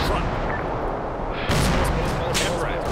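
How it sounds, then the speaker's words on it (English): Automatic machine gun fire in the Arma 3 combat game, a loud, sustained burst of dense gunshots that intensifies midway, with shouting voices mixed in. "Machine gun"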